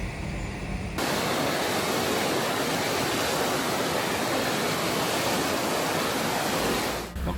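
Rushing river water surrounds a car fording a stream in Iceland, a loud, dense, continuous roar that bursts in abruptly after a quieter first second and cuts off sharply near the end.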